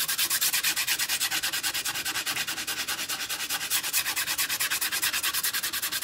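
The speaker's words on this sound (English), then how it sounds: "I'm going to go ahead and take a piece of sandpaper and I'm going to sand these edges" Sandpaper rubbed by hand along the edges of stained wood to distress it, a close rhythmic scratchy back-and-forth rasp of quick even strokes, steady with no voices.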